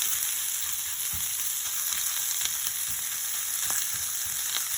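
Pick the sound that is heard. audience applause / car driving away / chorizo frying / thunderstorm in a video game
chorizo frying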